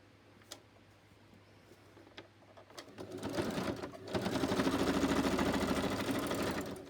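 A sewing machine stitching down the middle of paper for ephemera crafts, starting with a few scattered ticks and clicks, then a steady close mechanical whirring and rattling hum that builds and runs continuously.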